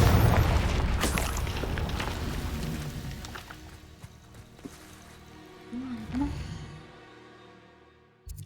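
A Confringo explosion spell in Hogwarts Legacy erupts in a loud, booming blast that rumbles and fades over several seconds, with smaller pops and crackles trailing behind, and a voice speaking briefly partway through.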